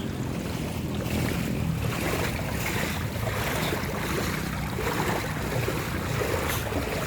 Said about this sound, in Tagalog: Ganito sa amin pag mataas ang tubig, pag may flooding, hindi kami makalabas.